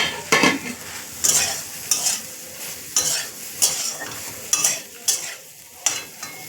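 Soybean chunks frying in a pan, a close, loud sizzle broken by regular scrapes and clinks of a utensil stirring about once a second, with no voices.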